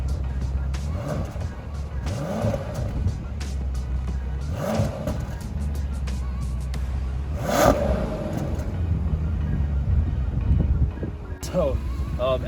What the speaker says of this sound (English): this engine is so torquey, the W12 engine, you're actually feeling the whole car move